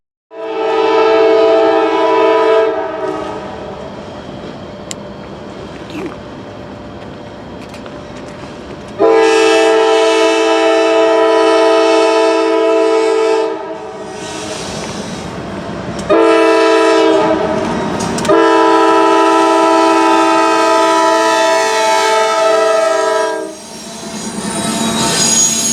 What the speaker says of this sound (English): Westbound manifest NS A23 makes its way west towards Sheffield.